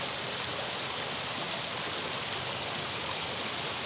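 Water pours through a dam below a forgotten cabin in Lassen National Forest, a steady, even broadband rush with no break in volume and no voices.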